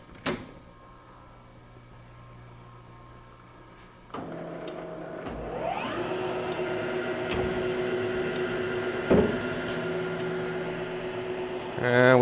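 A 16-inch Blanchard model 11-16 rotary surface grinder powering up on 440-460 volts: a quiet hum, then a jump in level around four seconds as the spindle motor spins up into a steady, rising mechanical whine that holds loud and continuous.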